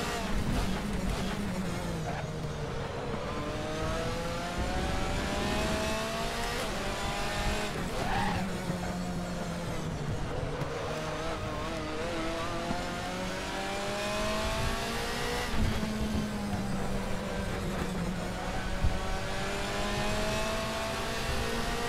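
A DTM touring race car with heavy downforce, racing at the Hungaroring in the video game DTM Experience 2014, its engine droning and rising and falling through gears, with sustained tire squeal while sliding, loud and continuous throughout.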